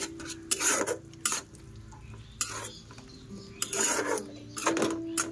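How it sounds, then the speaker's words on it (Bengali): Whole spices being sautéed in a pan over a medium gas flame, with bursts of stirring and utensil scrapes against the metal separated by quieter gaps, a faint sizzle beneath, close and moderately loud. "গ্যাসের আঁচটা মিডিয়ামে রেখে তারপরে আমি পুরো মশলাগুলো ভালো মতন কষিয়ে নেব।"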